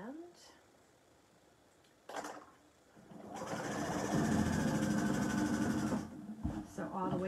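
A sewing machine stitches a folded line across a beginner's apron at stitch length 4.0, a loud, fast, steady whirring run of about three seconds after a brief quiet start, with a few short knocks and handling sounds around it.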